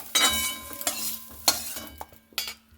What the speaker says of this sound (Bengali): এরপরে আলু আর পটলটাকে খুব সুন্দর করে নাড়াচাড়া করে নেব।